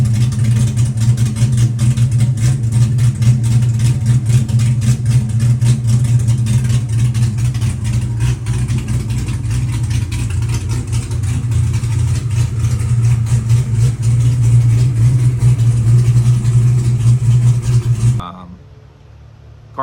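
A freshly built C6 Corvette Z06 engine idles loudly and steadily close by with a deep, even rumble, then cuts off abruptly near the end.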